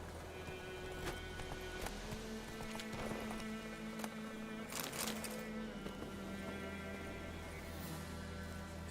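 A horse gallops in The Witcher 3, with steady clip-clop hoofbeats over game ambience and droning music, some louder hoof strikes standing out near the middle.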